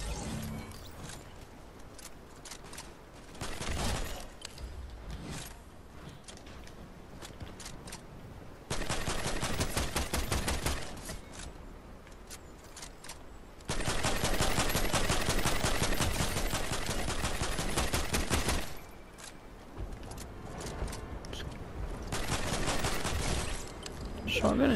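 Shotgun fire in the video game Fortnite, heard as dense, continuous volleys of shots in long loud stretches, broken by slightly quieter gaps. The shots pile up steadily for nearly half a minute.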